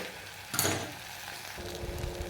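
Vegetables sautéing in oil for sweet corn rice, a steady close sizzle with a brief louder scrape of stirring partway through, continuing quietly to the end.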